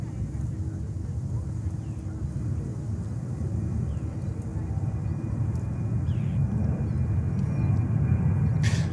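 Jet aircraft at JFK Airport in New York, with around ten planes lined up for takeoff on runway 13 right, give off a steady loud engine roar that swells slightly toward the end, mixed with wind noise.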